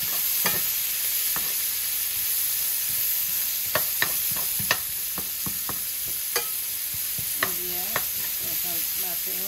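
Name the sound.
onions and green chilies added to frying fish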